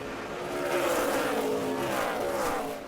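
NASCAR Camping World trucks racing, with the Dollar General Chevrolet making a pass, give a steady, loud engine roar that swells slightly as the pack goes by, with a faint hiss of crowd or track noise underneath.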